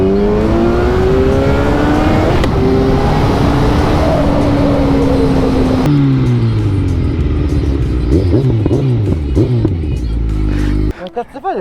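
A motorcycle engine revs loudly up close at a small bikers' meetup, rising and falling in sharp bursts, while people talk excitedly over the roar.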